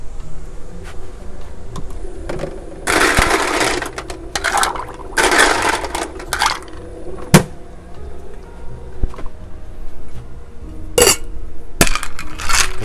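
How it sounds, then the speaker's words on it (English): Ice cubes tumbling into a metal cocktail shaker tin while a bourbon drink is made, clattering in loud bursts with scattered single clinks and knocks between them. "we'll fill our shaker tin up with ice"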